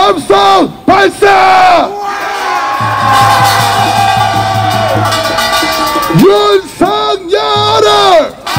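A protest crowd at a march through Itaewon roars a sustained cheer in a loud swelling wave, framed by short rhythmic chanted shouts before and after.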